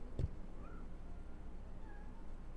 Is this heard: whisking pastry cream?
no